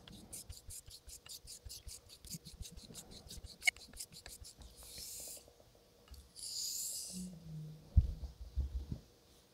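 A straight razor blade is stroked along a sharpening stone, producing a run of quick, faint, rhythmic rasping strokes, followed by soft scrapes and handling noises; quiet and close, with no speech.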